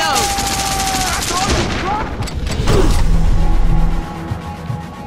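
Heavy weapon fire and a booming blast in the video game Far Cry 3, loud and dense, with a sustained rumbling impact over continuous gunfire and game noise.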